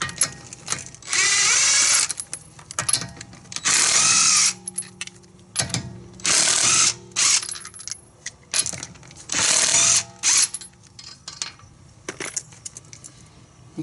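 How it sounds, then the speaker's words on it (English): Repeated bursts of a power impact tool spinning lug nuts off a Honda Accord wheel, several loud buzzing runs of one to two seconds separated by short pauses, close by with no talking. "you're using either a lug wrench or you're using a breaker bar, you need to loosen all 5 lug nuts"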